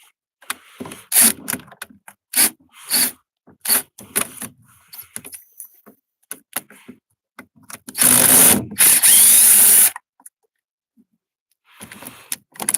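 A power drill whirs in several short bursts with clicks and metallic handling between them, then one sustained loud run of about two seconds, close by, removing screws from a GM G-body steering column.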